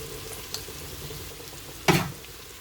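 Ginger-garlic masala fries in a pan as cumin powder goes in, giving a low steady sizzle that flares into a sharp, loud hiss near the end.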